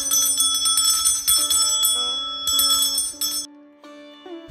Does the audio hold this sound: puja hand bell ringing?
yes